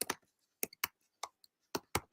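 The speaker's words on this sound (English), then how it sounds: "So I'm typing furiously." Sparse, crisp key taps on a computer keyboard come in quick irregular bursts of one or two clicks, close and fairly quiet, with silence between them.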